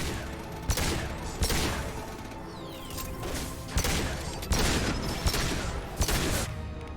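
Booming gunshots ring out in a Mass Effect firefight, a handful of loud, widely spaced blasts over a dense wash of combat noise and clattering mechanisms.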